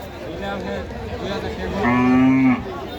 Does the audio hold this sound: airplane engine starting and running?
no